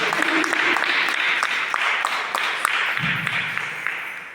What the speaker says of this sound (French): Applaudissez pour vous qui restez encore.